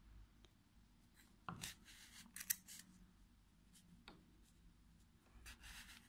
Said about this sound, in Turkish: burada makasınız küçük ve çok keskinse daha rahat kesebilirsiniz